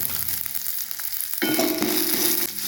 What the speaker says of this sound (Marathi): आपण घेतलेले जिरा सुद्धा भाजून घ्यायचे आणि थोडंसं मीठ सुद्धा टाकायचे, अर्धा चम्मच.